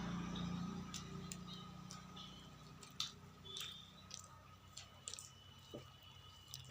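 Someone eating hot rice mixed with mashed boiled potato, soft close wet chewing and squishing with small clicks and ticks, quiet with no talk.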